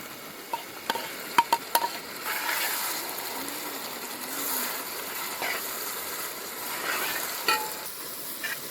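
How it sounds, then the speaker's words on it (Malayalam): Onions and tomatoes sauté in a large pot for a village festival chicken biryani, giving a continuous sizzle with several sharp metallic clicks and scraping stirs near the start. "സബോള വഴണ്ടി വന്നിട്ടുണ്ട് ഇനി തക്കാളി ഇട്ട് കൊടുക്കാം"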